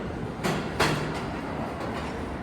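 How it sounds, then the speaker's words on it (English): An R46 New York subway train rolls through with a steady rumble, sharp clanks and squeals over the rails, moderately close and without voices. "Here's an R46W train, that's pretty cool."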